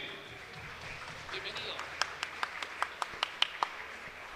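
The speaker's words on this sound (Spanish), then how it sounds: "Recibámoslo con fuertes aplausos," At a social dinner and dance in a hall in La Democracia, Huehuetenango, a handful of people clap in sharp, separate claps building into sparse applause, heard under and after someone speaking over a loudspeaker.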